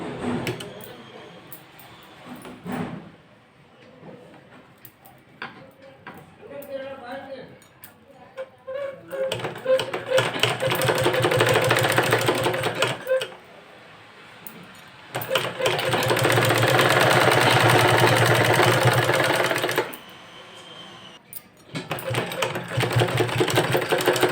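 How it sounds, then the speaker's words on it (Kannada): A sewing machine stitches the two sides of a blouse together in bursts of steady mechanical whirring, loud and close, with pauses between runs where a voice speaks. "ಆ ಕಡೆ ಸೈಡು ಈ ಕಡೆ ಸೈಡು ಎರಡೂ ಸೇರಿಸ್ಬಿಟ್ಟು ನೀವು ಸ್ಟಿಚ್ ಹಾಕೋಬೇಕು"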